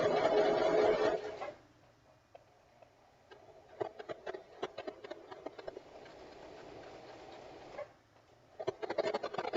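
Sewing machine reverse stitching fabric for a pirate costume: a loud burst of motor whir, then quieter rapid ticking stitches, and a final run of stitching near the end, all close by.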